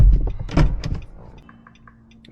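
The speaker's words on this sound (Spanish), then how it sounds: "Abre y cierra la puerta." A car door being opened and shut during key programming by a locksmith, heard as a loud, close clunk and rattle of the door, then quieter faint clicks and a low hum.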